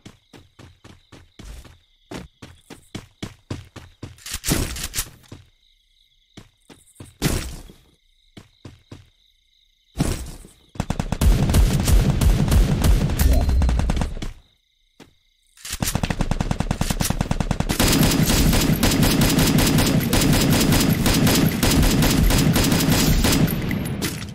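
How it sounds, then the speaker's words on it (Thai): Gunfire in a shooting video game: scattered single shots and short bursts at first, then long stretches of dense, rapid automatic fire, loud and close. "เห็นเพื่อนยิง แต่เรายิงไม่ทันเพื่อน"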